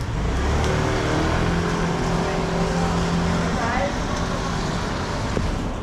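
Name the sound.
car in street traffic in Macau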